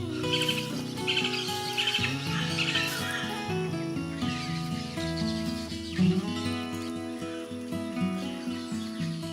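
Yellow-naped parrots calling in the wild in El Salvador, scattered chirps and squawks heard over a steady tonal musical backdrop, moderately loud.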